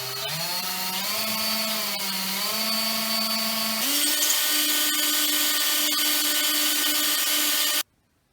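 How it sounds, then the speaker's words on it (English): A power drill whines as it bores a hole for a wrist cord in the wood handle of a WWI gear head trench club, its motor pitch shifting partway through before stopping abruptly. "So when I drill it in here, it's going to fit nicely."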